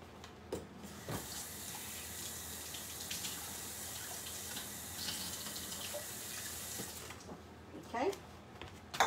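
Half a cup of water pours into a pan holding sugar and cornstarch for a lemon pie filling, a faint running splash at low level under quiet kitchen sounds.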